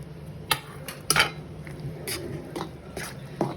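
Homemade tomato pickle paste of cooked tomato and tamarind being stirred with mustard seeds, fenugreek and asafoetida, giving a few sharp utensil clinks and scrapes against the bowl over quiet kitchen background.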